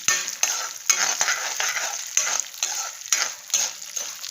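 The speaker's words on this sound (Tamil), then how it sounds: "இந்த பருப்பு, உளுத்தம்பருப்பு, அதுக்கப்புறம் கடலைப்பருப்பு, இதையும் போட்டு கொஞ்சம் சிகப்பாக வறுத்துக்கலாம்" Urad dal and chana dal frying in a pan until reddish for a coconut-mango thuvaiyal, a close, steady dry sizzle with repeated stirring scrapes in a loose rhythm, no voices.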